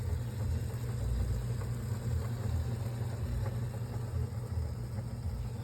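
An American straight needle stitcher, a leather sandal-stitching machine, runs with a steady low mechanical hum and rumble throughout, close by and even in level, with no talking.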